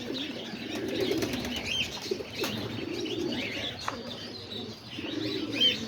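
Homing pigeons coo steadily in a low, repeated murmur, with brief chirps and a flutter of wings mixed in nearby.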